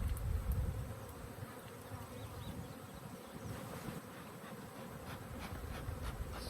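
Bees buzz steadily around a beekeeper during a honey harvest, a continuous close insect drone with faint rustling underneath.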